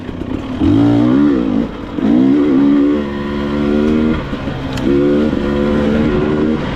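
A dirt bike engine revs on snow-covered trails, its pitch climbing and falling through several loud, close throttle blips over a steady running drone.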